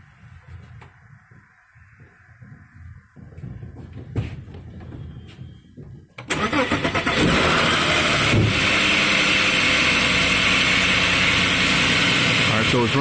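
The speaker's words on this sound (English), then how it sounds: "Alright, so it's running, it's misfiring now." An Audi Q7 engine cranks and starts after some clunks and handling noises, then runs loudly with a rough, uneven misfire, close up and continuous.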